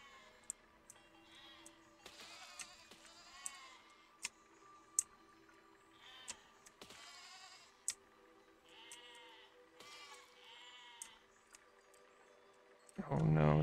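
Sheep in the physics building game Besiege bleat in scattered bursts, along with sharp ticks and clicks. A loud, harsh blast comes at the end.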